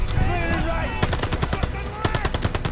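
Machine gun fire in the video game Operation Tonga, rapid bursts of close, loud automatic shots with layered battle noise and occasional voices.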